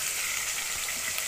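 Pork browning in a pot gives off a steady, soft sizzle that holds evenly throughout, with no voices over it.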